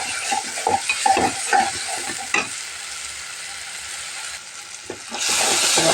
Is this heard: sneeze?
no